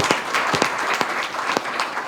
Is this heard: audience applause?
yes